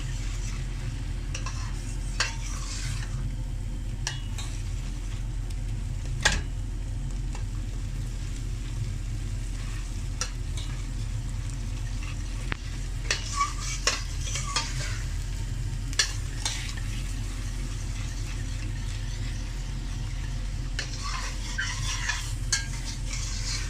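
Garlic frying in a karahi for Lahori-style mutton karahi over medium-high flame, a continuous loud sizzle with frequent spoon stirring scrapes and taps against the pan throughout.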